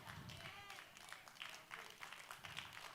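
Applause from a church congregation during a sermon rolls on as a dense, continuous patter of many hands, distant and faint. Speech is mixed in beneath it.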